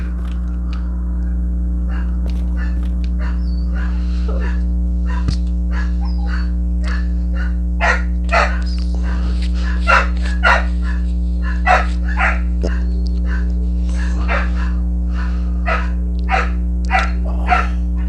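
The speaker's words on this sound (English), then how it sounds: "I apologize for the background dogs." Dogs bark repeatedly in the background, the barks growing more frequent over a steady electronic hum.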